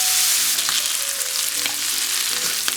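Seasoned chicken pieces fry in a skillet with a loud, steady sizzle. A few sharp pops and clicks break through at intervals, and no one speaks.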